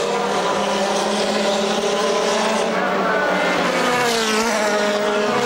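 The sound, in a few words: GT race cars racing at Monza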